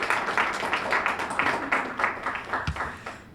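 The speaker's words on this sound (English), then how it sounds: "It's okay to clap." An audience claps steadily for a few seconds, moderately loud, with a speaker's voice faintly mixed in.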